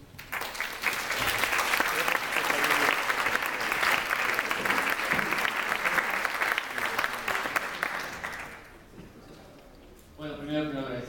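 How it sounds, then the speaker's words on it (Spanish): A lecture audience bursts into sustained, dense applause for an introduced speaker at an astrobiology and cancer talk, fading out after about eight seconds before a single voice begins speaking near the end. "Demos un fuerte aplauso."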